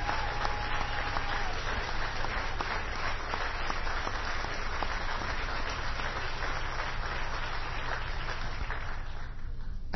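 A room audience gives a standing ovation, dense continuous clapping that stays loud and even from start to finish with no voices on top.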